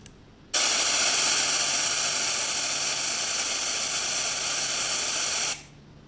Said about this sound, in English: Just listen to this white noise. This is more hissy.